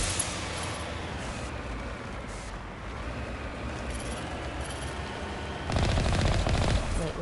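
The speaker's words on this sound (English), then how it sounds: "let's just drive straight to the tank and shoot at it" The Mako vehicle's gun in a PS5 game fires in a continuous rattling stream over a steady rumbling drive, growing louder and denser toward the end.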